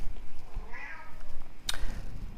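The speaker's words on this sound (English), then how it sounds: "I have my cat here. She wants to participate." A pet cat gives one drawn-out meow, close and clear, followed by a sharp short noise, with low rumbling in the background.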